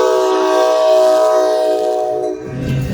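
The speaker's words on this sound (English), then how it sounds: "This is the Surfliner." Amtrak Surfliner passenger train passing near Hidden Ranch along the Arroyo Simi Greenway in Simi Valley, a steady loud horn-like tonal roar that holds for about two seconds, then fades into rumbling rail noise.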